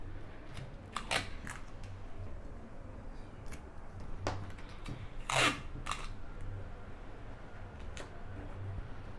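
Scissors snip through fabric to trim excess fluff while shaping a contoured under-bust dress piece, giving several crisp, separate cuts close by. One louder snip stands out midway against a quiet room, with no talking.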